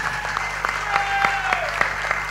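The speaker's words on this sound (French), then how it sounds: "Applaudis à Zot bien fort" An audience claps loudly and continuously for contestants at the Art' Gadiamb contest, with a voice carrying over the applause.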